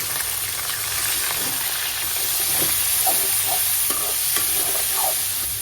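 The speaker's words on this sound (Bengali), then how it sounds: "এখন চিকেন গুলো একটু বেজে নিব" Chicken pieces fry in a pan for tandoori pasta, giving a steady loud sizzle and hiss with occasional stirring scrapes, close by and with no speech.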